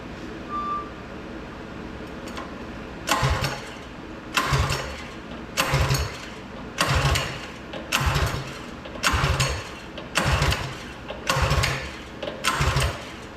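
A Coleman BT200X minibike engine is cranked over and over without starting, giving about eight evenly spaced rasping bursts of turning and chugging. It sounds close, and no one speaks.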